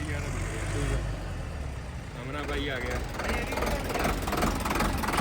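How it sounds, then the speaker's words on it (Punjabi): A tractor engine runs steadily with a low, continuous rumble throughout, while someone talks over it nearby. "ਆਵਾਜ਼ ਦੇਖੋ ਟਰੈਕਟਰ ਕਿੰਨੇ ਕਿੰਨੀ ਪਿਆਰੀ ਆ"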